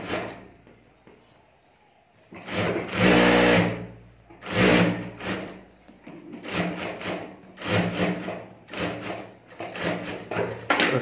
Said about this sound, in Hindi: तो इस तरह से यहाँ में सिलाई करके दोनों अस्तर जोड़ देता हूँ